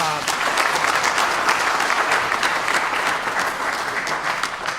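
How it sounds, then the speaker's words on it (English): An audience at a book launch applauds, a dense, steady round of clapping from many hands, sustained evenly and loud throughout. "an incredible round of applause"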